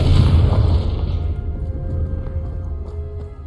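A Confringo blasting spell explodes in Hogwarts Legacy, a loud low boom with a bright burst at the start that settles into a rumbling decay.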